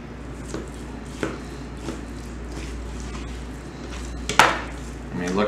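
Knife work on an elk hind quarter being cut into 3/4-inch steaks, a few soft thuds of the blade striking the board at irregular intervals, with one sharper knock near the end over quiet room tone.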